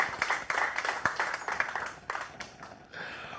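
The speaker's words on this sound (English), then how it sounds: "can we get a warm round of applause again for Xavier Jhon-Clair?" Audience applause at a youth internet governance forum, a modest round of scattered clapping from a crowd, steady at first and thinning out toward the end.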